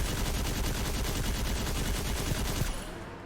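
Rapid automatic gunfire in the Destiny 2 video game, a dense rattling burst of evenly spaced shots held for over two and a half seconds before cutting off abruptly into a short fading tail.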